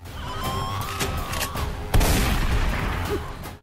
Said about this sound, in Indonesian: Pada malam itu baku tembak terjadi dan sang putra dan calon menantunya terbunuh.